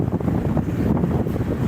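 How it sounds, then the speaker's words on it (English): Strong, cold wind buffets the microphone at a beach, a loud, gusty low rumble with surf-like wash beneath, steady throughout with no speech. "it's incredibly windy"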